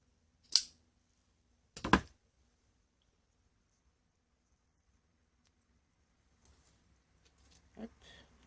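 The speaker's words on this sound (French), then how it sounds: "Je vais le couper." Paper being cut with scissors while assembling a vintage baby photo album by hand, heard as two sharp, close snips about a second apart, followed by faint rustling of handled paper near the end.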